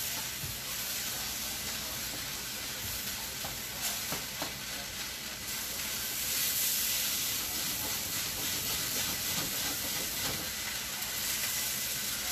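Chinese takeout ingredients sizzle steadily in a hot pan over high heat, a dense continuous frying hiss with occasional stirring scrapes, close and fairly loud throughout with no talk.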